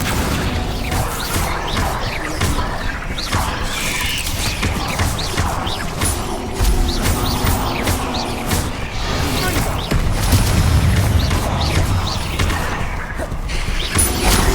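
Explosive Confringo and Bombarda spell blasts in the Hogwarts Legacy video game, a dense continuous barrage of bursts, crashes and whooshes layered with game sound effects, loud throughout with heavier booms toward the end.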